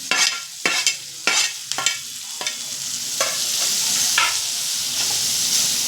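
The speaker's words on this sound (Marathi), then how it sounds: "त्यानंतर आपल्याला हे ढोबळी मिरची त्यात पूर्णपणे घालून घ्यायची आहे आणि छानपैकी परतवून घ्यायचे" Bell peppers (capsicum) sautéed in a hot pan with ground coriander, giving a steady loud sizzle broken by several sharp scraping stir strokes in the first half, then a continuous frying hiss.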